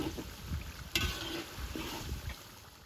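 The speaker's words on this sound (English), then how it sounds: "As the liver, coated in flour, hits the hot pan, that satisfying sizzle feels like a little" Flour-coated beef liver frying in a hot pan makes a steady sizzling crackle, close and moderately loud, with a few soft knocks and clatters of pan handling.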